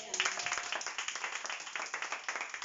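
Steady, rhythmic hand clapping from a congregation during a church sermon, a brisk even beat of claps that carries on for the whole stretch at moderate loudness.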